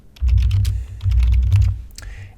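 Comment being typed on a computer keyboard in a formula editor: close, crisp keystrokes in two quick bursts with a brief pause between, then a few scattered taps, no voices.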